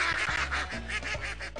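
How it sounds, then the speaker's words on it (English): Ducks quack repeatedly in a Putt-Putt adventure video game, a steady run of close, loud calls layered over cartoon background music. "there's some ducks in the road"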